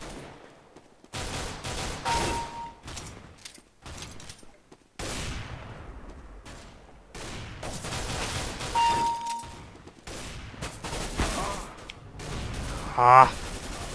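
Pistol gunfire in Counter-Strike: Global Offensive: bursts of sharp shots scattered throughout at varying distances, mixed with in-game effects and a loud close burst near the end.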